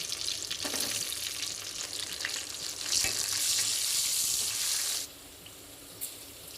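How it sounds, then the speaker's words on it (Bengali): Okra sizzles loudly in a hot pan with a strong, steady frying hiss and occasional stirring scrapes, before the sizzle abruptly drops to a quieter simmer near the end. "তারপরে গরম কড়াইতে আমি ঢ্যাঁড়সগুলো ভেজে নেবো"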